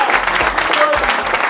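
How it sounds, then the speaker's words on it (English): A short burst of audience applause at an unscripted lifestyle talk show, loud and close. The clapping is dense and textured, with a few low thumps under it. "if I like Oga, I give a round of applause."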